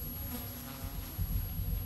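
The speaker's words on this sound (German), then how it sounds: "Am Abend höre ich das Summen von Insekten." A steady, continuous buzz of insects on an evening, low and unbroken throughout, with no voices.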